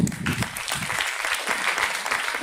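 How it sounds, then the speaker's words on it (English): Warm, steady applause from a conference audience after a scientific talk, a dense burst of many hands clapping at once that holds at an even level for the whole stretch. "Applause."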